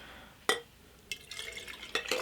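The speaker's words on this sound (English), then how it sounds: "Add the water." Water poured into a jar of sifted matcha for cold-brew iced matcha, heard as short splashing bursts with quiet gaps between them, close and fairly soft.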